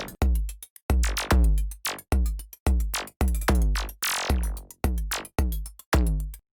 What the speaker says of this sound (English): And with the early reflections, it sounds like this.